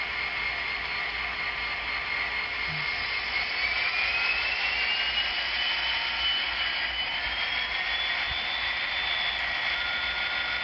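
Sound effect from an N scale Broadway Limited SD40-2 Norfolk Southern high hood diesel locomotive model, a steady droning engine hum with a slowly rising whine as it notches up, continuous and fairly loud.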